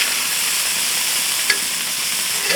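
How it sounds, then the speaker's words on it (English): Bacon fries in a pan with a steady close sizzle, with a brief clatter as the pieces are flipped. "We're going to flip these pieces of bacon over."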